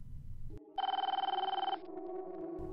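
A telephone bell rings in a single close, trilling burst about one second long, framed by a low hum before and after.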